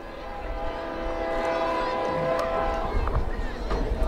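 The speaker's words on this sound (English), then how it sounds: "Here comes the slow freight from the west." A slow freight train approaching from the west near a high school football game, its horn sounding steadily with a rumbling rail drone throughout, loud and fairly near.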